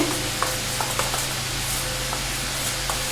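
Ground chana dal batter is mixed with Kashmiri chili and salt in a bowl for crispy pakoras. Soft, intermittent stirring and scraping sounds up close sit over a steady low background hum, with no talking.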